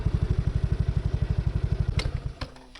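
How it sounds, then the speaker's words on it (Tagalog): A scooter engine labors up a steep uphill trail, putting out a loud, rapid, regular chugging pulse that sounds close by and fades slightly at the end, with no talk. "Nahihirapan yung motor natin."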